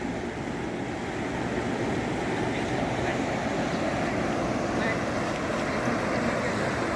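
The Narmada river flowing and gurgling, a steady close rush of moving water with an even, unbroken texture for the whole stretch and no clear voices over it.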